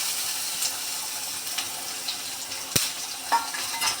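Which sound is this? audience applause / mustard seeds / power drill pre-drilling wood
mustard seeds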